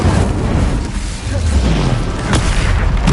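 Bombarda explosion spell cast in the video game Hogwarts Legacy, producing loud, rumbling booms that roll into one another with a dense, heavy low end across the whole short stretch.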